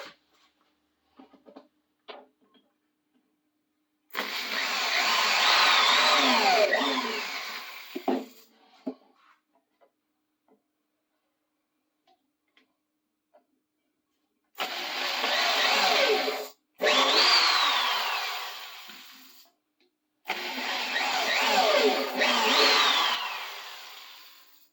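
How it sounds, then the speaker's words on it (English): A power drill runs in three sustained bursts, a whining motor roar of several seconds each with short pauses between, close and loud, with faint clicks and handling noises before the first hole. "And I drill 3 holes."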